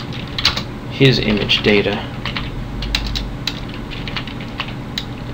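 Computer keyboard typing during game programming work, quick irregular key clicks close to the microphone, with someone talking briefly over them.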